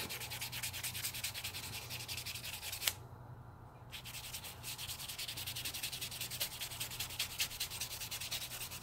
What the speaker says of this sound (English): I'm going to go through on my sanding block.